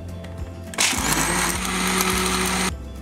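A kitchen blender switches on and whirs loudly for about two seconds as it blends falsa juice with black salt and water, then cuts off, preceded and followed by a lower motor hum.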